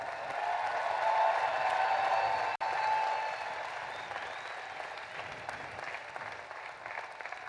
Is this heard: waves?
no